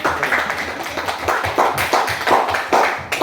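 A group at a junior high school event claps loudly and close by, the hands striking together in a fairly regular, rhythmic beat that repeats steadily throughout.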